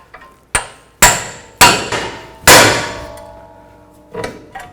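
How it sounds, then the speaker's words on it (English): Metal hammer blows striking a pickle fork to split a ball joint from the steering knuckle on a 2007-16 GMC Acadia, with about six loud ringing clangs at uneven spacing, each decaying into a metallic ring, close by. "I'm going to use a pickle fork to disconnect the ball joint from the knuckle."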